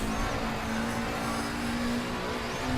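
A damaged race car in Raceroom Racing Experience drones along at steady speed, its engine hum carrying a faint continuous grinding whine from the worsening damage, with no talking.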